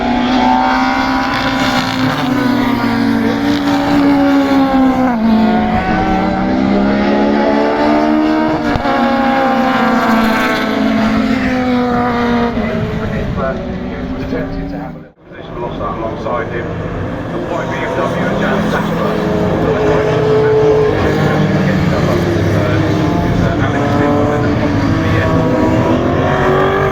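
Super Touring race cars at Brands Hatch's Paddock Hill Bend, June 2024: loud engines howl past close by, rising and falling through gear changes, with a brief lull midway before another car roars through.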